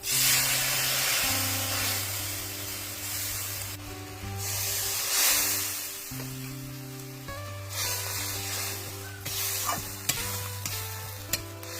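Onion paste and mustard-poppy seed paste hit hot oil in a pan with dried chilli and cumin, giving a loud steady sizzle and hiss with stirring scrapes and a few light clinks, no voices.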